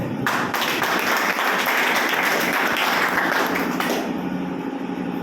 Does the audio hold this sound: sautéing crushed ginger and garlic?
no